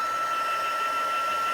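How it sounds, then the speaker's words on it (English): Heat tool blowing hot air onto puff paint on a craft Christmas chimney chocolate holder, a steady loud whirring blast with a high whine, unbroken and alone. "And then you're going to take your heat tool"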